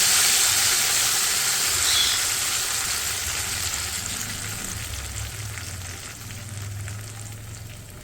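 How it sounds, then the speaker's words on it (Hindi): Hot ghee tadka poured over mash dal with spinach, giving a loud hissing sizzle that starts strong and slowly fades while staying steady and close. "ये तड़का जो है वो रेडी हो गया। अब हम इस पर डाल देंगे।"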